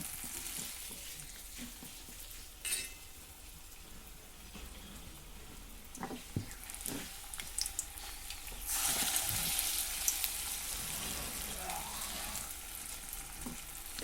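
Batter-coated bottle gourd leaf rolls fry in hot oil with a steady, soft crackling sizzle, occasional utensil knocks, and a brighter burst of bubbling partway through.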